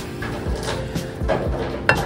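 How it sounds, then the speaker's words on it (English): A lid is set onto a pot of potatoes in boiling salted water in a home kitchen: soft metal clatters and knocks, with a sharper clink of the lid landing near the end, close by and with no talk. "Put a lid on the pot and turn the water off"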